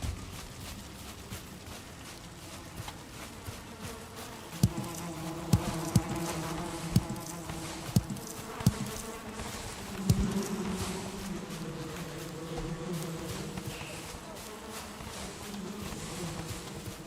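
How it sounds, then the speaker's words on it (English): Bees buzz in a continuous droning hum inside the Valheim video game, with a few sharp clicks and taps scattered over the steady insect whine. "Why was I hearing bees inside?"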